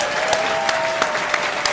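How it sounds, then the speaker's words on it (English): A short burst of steady clapping from a conference audience greeting a presenter named Selena, a close, continuous patter with a few sharper individual claps standing out. "So let's give a big round of applause"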